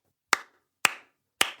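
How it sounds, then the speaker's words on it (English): Three sharp, separate hand claps ring out close and loud, about half a second apart, each dying away quickly into silence. "give this man an applause"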